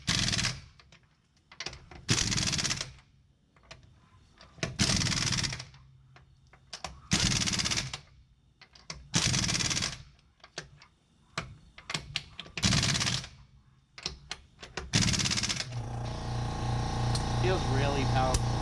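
An Aircat 1178-VXL half-inch impact wrench drives lug nuts through a torque stick in about seven loud, hammering bursts of a second or so each, separated by quiet gaps; a voice talks near the end.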